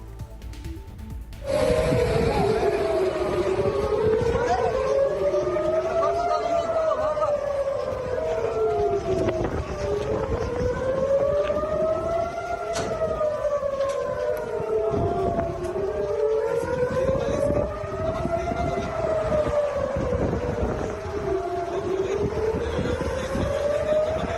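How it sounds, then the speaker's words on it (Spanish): An air raid siren in Israel wails continuously, its pitch rising and falling in slow repeating waves, loud and steady with no voices. "escuchar cómo sonaron las sirenas en distintas partes de Israel"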